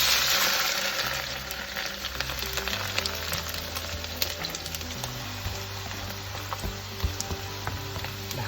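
Sliced bitter gourd fries in hot oil, a dense steady sizzle with scattered small pops and crackles, close and continuous with no talking.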